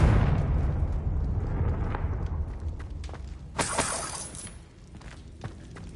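A Confringo blast spell in the Hogwarts Legacy video game erupts as a loud, rumbling explosion with a sharp crackling flare midway, trailing into debris and low rumble.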